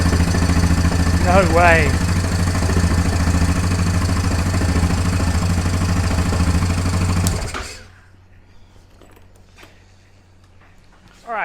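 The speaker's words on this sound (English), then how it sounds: "I'm going to start and idle the engine just till everything warms up" A 2011 Yamaha Grizzly 700 ATV engine, freshly primed with fuel, runs at a loud steady idle for about seven seconds before cutting off abruptly into near silence. A voice speaks briefly over the engine noise.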